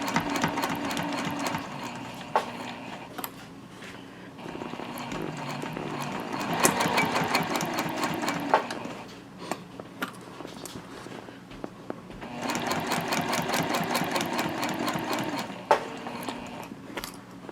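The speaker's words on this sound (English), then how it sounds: "we're just going to sew with a 1/2 inch seam all the way around, and go slow because you do have a lot of curves here" A sewing machine runs a half-inch seam around a curvy zip-top tote bag, sewing slowly in several bursts of close mechanical whirring separated by short quieter pauses, with no voices.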